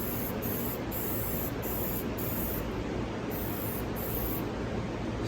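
A steady, loud hiss of spray foam blasting continuously from a can onto rusted metal of a 1968 Plymouth coupe, unbroken from start to finish.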